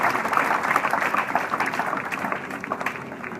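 Members of a church congregation at a crusade service applaud together, a steady mid-level wash of many clapping hands with a light rhythmic pulse, fading slightly toward the end.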